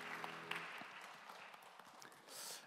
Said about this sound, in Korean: 우리 박수로 서로의 삶을 응원하며 축복합니다.